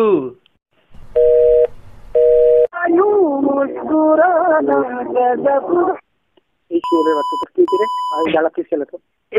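A telephone busy tone sounds after a call is cut off: two loud, steady beeps, then speech, then later short electronic beeps mixed with more talking.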